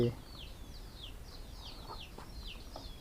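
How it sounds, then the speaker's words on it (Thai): Chickens cluck in short, repeated calls a little way off from a backyard garden with fruit trees, over low rustling outdoor background noise. "ก็มีเลี้ยงไก่"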